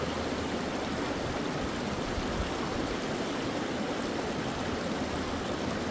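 Creek water rushes through a gold sluice box at Mill Creek in the California highlands, a constant dense hiss and burble that stays loud and unbroken throughout, with no voices.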